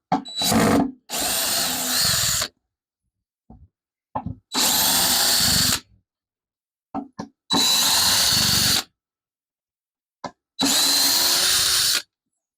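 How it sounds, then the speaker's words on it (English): A power drill backs screws out of a wooden scroll saw stand in several separate bursts of loud, close whirring, each lasting one to two seconds, with short quiet gaps and small handling clicks between them. "let's take the screws out of this side now"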